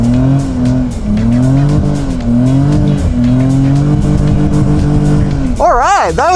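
A BMW E46 drift car fitted with a hydraulic handbrake slides with a loud, steady engine roar and wavering tire squeal that swells sharply near the end, close and continuous.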